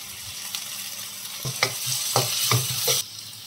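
Curry leaves drop into a hot, oily pan for a gongura prawn curry, giving a steady close sizzle broken by several sharp bursts of crackling and stirring scrapes, with no talking.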